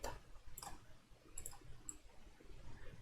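Mouse clicks on a menu bar in Inkscape: a few sharp, quiet clicks spaced irregularly against faint room noise, with no voices.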